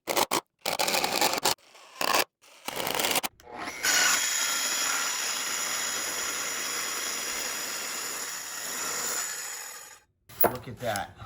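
A power tool cuts through wood for a workbench build, a steady loud whine running for about six seconds after a few short bursts of startup and handling noise, then stopping abruptly.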